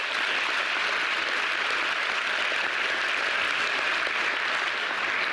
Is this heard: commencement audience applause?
yes